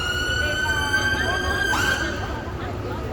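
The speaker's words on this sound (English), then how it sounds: "With the ambulance." An ambulance siren wails continuously across the whole moment, its steady rising and falling tone loud and fairly near, with a faint shift partway through, over background noise and no voices.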